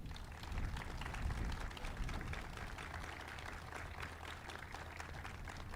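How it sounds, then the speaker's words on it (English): A crowd gathered at a detention center expansion ribbon cutting in Grayson County applauds the team, a dense, steady wash of clapping that swells early and then holds at an even, moderate level. "give these guys a big round of applause"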